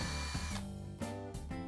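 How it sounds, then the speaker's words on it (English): A power drill whirs steadily and close up, its pitch dipping briefly as it bites into wood while drilling pilot holes, then surging again. "I first drill pilot holes"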